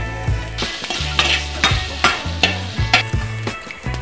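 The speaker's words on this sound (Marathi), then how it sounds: "तर आता मी त्याच कढईमध्ये हिरव्या मिरच्या सुद्धा भाजून घेत आहे आणि लसणाच्या कळी सुद्धा त्यामध्येच भाजून घेत आहे।" Green chillies and garlic cloves fry in a little oil in a wok, sizzling in short bursts with repeated stirring scrapes and clinks of a utensil against the pan, close and fairly loud.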